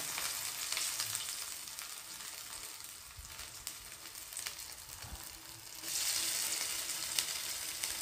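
Spinach pieces frying in hot oil, a steady crackling sizzle heard close up that dips briefly midway, then swells louder again, with no voices.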